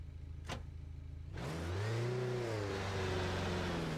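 Car engine in a racing sim video game revving hard at a drag-style launch, a faint click followed by a steady rising then levelling engine drone, moderately distant.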